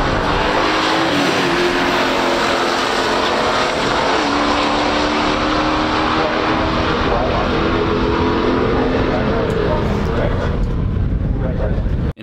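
A 1969 Pontiac GTO Judge and a 1968 Pontiac Firebird Ram Air II in a stock drag race roar loudly and continuously down the strip, engine drone holding strong before cutting off abruptly at the end.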